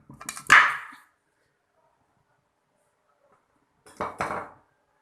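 Half a kilo of mutton pieces dropped into a metal cooking pot, two short clattering bursts about three seconds apart with near silence between them, close and fairly loud.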